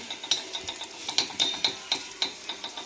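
Dry coconut stirred and roasted in a pan until reddish, with rapid scraping strokes of a spoon against the pan and a faint sizzle, close and steady.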